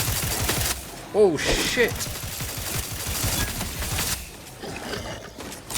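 Bursts of gunfire in the video game The Outer Worlds 2, a dense fusillade of shots with pauses in between, heard under a player's exclamations and the game's background sounds.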